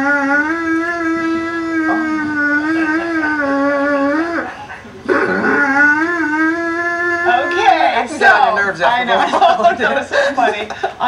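A Doberman howls in long, wavering singing tones, breaking off briefly before starting again, then yips and whimpers as people laugh and talk over it in a studio.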